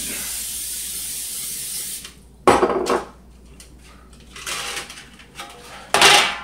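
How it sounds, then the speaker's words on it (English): Cooking spray hisses onto a baking pan in a home kitchen in a steady burst, then several shorter, louder bursts follow after a pause, with faint clinks of metal between them. "I sprayed my pan"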